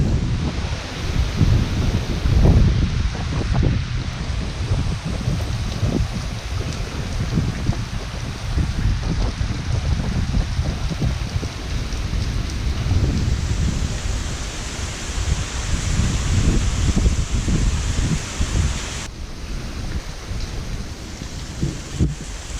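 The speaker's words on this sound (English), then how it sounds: "Hard rain. And rain that jumps up and bites you." Hard rain pours during Hurricane Dorian in 2019 in Hampstead, North Carolina, a dense, continuous roar of downpour with gusting wind swelling and easing throughout. No one speaks.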